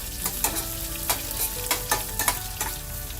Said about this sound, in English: Now we're going to cook the onions down.